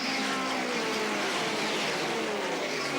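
Several NASCAR stock cars roar past together at the 1982 Daytona 500 at Daytona International Speedway, a steady loud engine drone with shifting pitch as the pack sweeps by, no voices.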